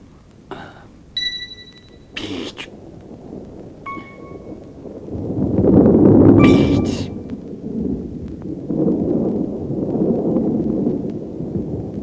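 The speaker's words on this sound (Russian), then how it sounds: "Видишь, какая туча? Гром гремит." Deep thunder rolls and rumbles from an approaching storm cloud in a mountain setting, swelling loud in the middle and lingering as a long low growl, with a few brief sharp sounds near the start.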